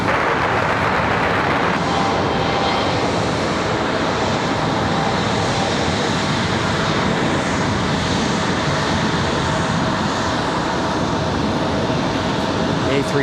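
A Lufthansa Airbus A340 moves at Raleigh-Durham airport, its jet engines producing a loud, continuous broadband roar that stays steady throughout.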